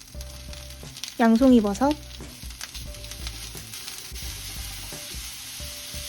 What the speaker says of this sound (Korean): 오일을 부어 마늘을 먼저 볶아주세요